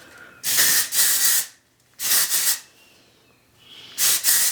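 Three bursts from a can of Soft Shine Beach Wave hair spray hiss close by, each lasting about a second, separated by brief pauses of near silence.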